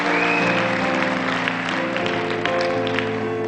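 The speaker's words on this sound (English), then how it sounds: "A nice round of applause." Steady applause from a festival crowd for the keyboard player, dense and continuous throughout with faint sustained keyboard tones underneath.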